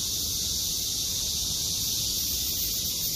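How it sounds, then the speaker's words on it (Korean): A Hyalessa fuscata cicada sings outdoors in summer, a loud, continuous high-pitched buzzing drone that holds steady for the whole stretch with no pauses and no voices. "와, 이 참매미 울음소리 좀 봐요."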